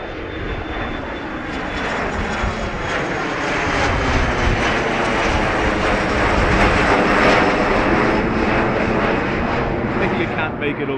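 A plane taxiing at Dublin Airport, near runway 28 right, gives a loud, steady engine roar that swells slightly and holds for the whole stretch.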